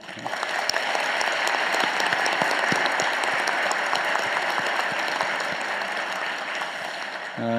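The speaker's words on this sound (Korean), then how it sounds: "우리 박수 한번 보내드리세요." Audience applause for the provincial governor at a Chungbuk public forum, a steady, dense round of clapping from a large crowd, sustained evenly for several seconds before a voice starts at the very end.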